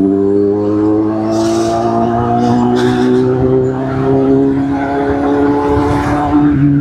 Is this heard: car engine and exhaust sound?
yes